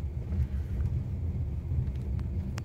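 Inside a Waymo self-driving car cruising smooth back streets: a steady low rumble of road and cabin noise with faint ticks, no talking.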